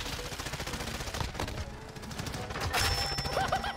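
Rapid automatic gunfire in a Modern Warfare match, a dense sustained burst of loud close shots running the whole stretch with a few sharper cracks near the end, no talk over it.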